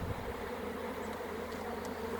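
Honeybees buzz around an opened hive box during a spring hive check, a continuous close, even drone with a faint steady hum beneath, no voices.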